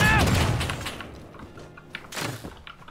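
Gunfire in the Rust video game, a burst of sharp shots near the start followed by scattered thumps and a second loud crack, with excited voices shouting over the action.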